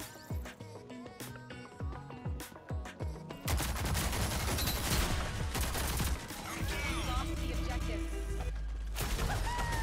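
Gunfire in the shooter game Rogue Company, opening with separate sharp single shots, then turning into dense, loud bursts of automatic fire and crashing impacts that continue to the end.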